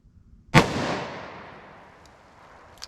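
A single sharp gunshot from a .357 Magnum revolver with a 2-inch barrel firing Winchester Black Talon rounds, loud and close, with a long ringing decay afterward.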